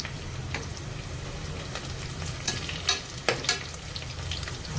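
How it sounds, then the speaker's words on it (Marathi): Whole spices such as bay leaves, cardamom, stone flower, caraway, peppercorns and cinnamon fry in hot oil for Maharashtrian masale bhat, giving a steady close sizzle with a few sharper pops and stirring scrapes near the end. "आता मी यात काही खडे मसाले घेतले आहे"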